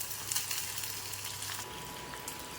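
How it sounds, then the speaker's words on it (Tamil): Onions frying in a pan with dried red chillies and urad dal for moong dal sambar, a faint steady sizzle with light crackle and a brief stir early on. "இப்போது வெங்காயம் போட்டுக்கிறேன். அதுவும் நல்லா கொஞ்சம் வேகட்டும்."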